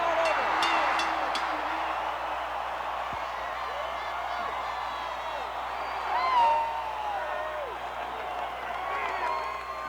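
A capacity crowd at a 1984 World Wrestling Federation event roars and cheers for Hulk Hogan's title defense, a dense sustained wall of noise with scattered whoops, under an announcer's talk.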